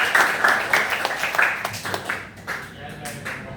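A classroom bursts into brief, moderately loud clapping that fades over a few seconds, with voices mixed in.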